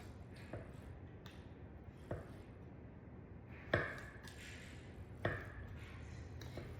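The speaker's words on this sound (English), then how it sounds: "now I'm going to slice the tempeh to about a 1/4 inch thick slices" A knife cuts a block of tempeh into quarter-inch slices on a board, giving a handful of sharp, sparse chops spaced about a second apart over quiet background, with no talk.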